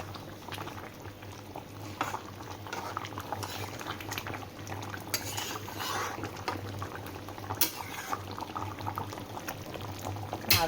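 A pot of fish and potato curry, made with freshly ground spice paste, boiling steadily with continuous bubbling and gurgling in a home kitchen.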